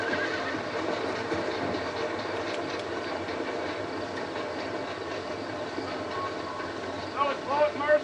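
Horses in the Western game Red Dead Redemption whinny with a steady clip-clop of hooves and a rumbling background, with a short burst of neighing near the end and some talk mixed in.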